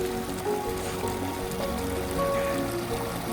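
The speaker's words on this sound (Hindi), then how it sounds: "यहाँ पे क्योंकि साफ पानी आ रहा है ऊपर से" Clean mountain water streams steadily down from above at a water-filling spot on a trek near Kabban village in Kishtwar, a constant close rush with no pauses and no talking.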